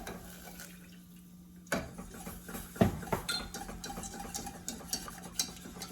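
A whisk or spoon stirs broth into a thickening sauce in a pot, giving soft scraping and clinking taps against the metal over a low steady hiss, fairly close.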